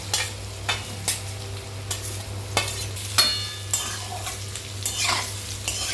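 A spoon scrapes and stirs mango pieces frying in mustard oil with dried chillies and five-spice seeds, rhythmic clacks over a steady sizzle, close up.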